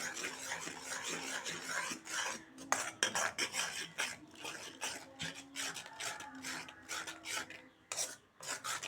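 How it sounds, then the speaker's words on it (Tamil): Custard powder is stirred into boiling sweetened milk in a pot, a quiet, rapid scraping of a spoon against the metal in continuous rhythmic strokes, with no talking. "கலந்துட்டே ஈக்கணும்"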